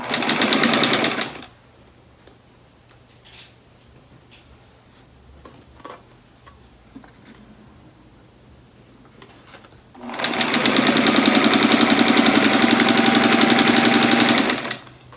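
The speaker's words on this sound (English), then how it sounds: "we're going to sew this seam and get our first piece of sashing put together" A sewing machine stitches a quilt seam joining sashing, running in a loud rapid whir at the start, pausing through quiet fabric handling with soft clicks, then resuming its fast steady stitching near the end.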